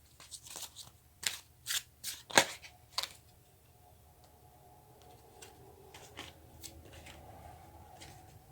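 Tarot cards are shuffled in a quick, close burst of crisp riffles and snaps over roughly three seconds, followed by fainter scattered card flicks and handling noises against a quiet room.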